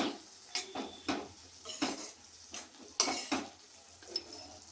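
A lid is lifted off a cooking pot of ridge gourd curry, giving several sharp metallic clanks and scrapes at uneven intervals over a low background hiss, close by with no voices.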